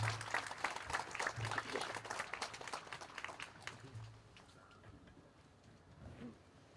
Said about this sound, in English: Please give a round of applause for our guest speaker,